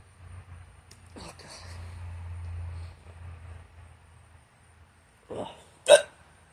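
A man hiccups twice near the end, short sharp bursts a moment apart, after quieter stretches with low background rumble and a few faint noises.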